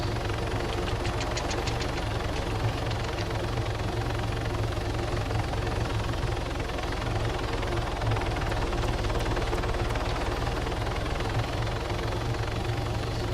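A helicopter in the Arma 3 video game descends to land at a hospital. The rotor and engine drone stays loud and steady throughout, with a constant vibrating hum and no talking.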